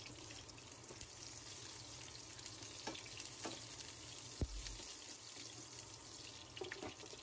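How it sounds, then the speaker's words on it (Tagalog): Onions sautéing in a pan for ginisang Baguio beans, a steady close sizzle and hiss running throughout with a brief sharp clank near the middle. "Sibuyas lang po ang ating igigisa."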